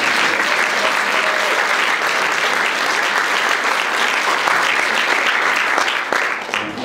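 An audience at a regional center's legislative breakfast in Aptos breaks into sustained, dense applause that holds steady and loud for several seconds before starting to thin at the end.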